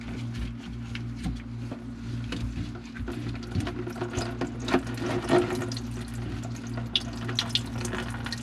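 Water drains steadily from a hotel kitchenette sink in Tempe, Arizona, just after the clogged drain was snaked following a backup into the wall, a continuous near rush of running water with small gurgles and clunks and no talk.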